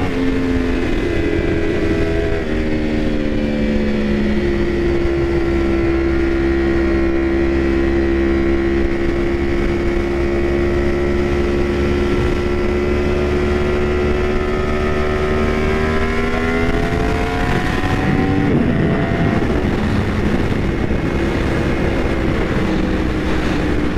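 A motorcycle on Michelin Power 5 tyres, fitted with a Brembo RCS 19 brake master cylinder, rides continuously with its engine note rising and falling through gear changes amid steady wind and road roar.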